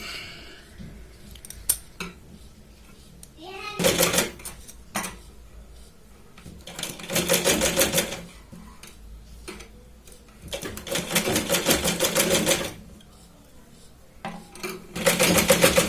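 A sewing machine stitches coffee-coloured piping around a round blouse back neck, with bursts of fast mechanical chatter between pauses and a few sharp handling clicks.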